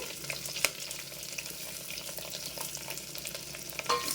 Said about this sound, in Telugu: ఆవాలు చిట్టపట్లు ఆడుతున్నాయి. ఇప్పుడు ఎర్రగడ్డలు వేసేద్దాము.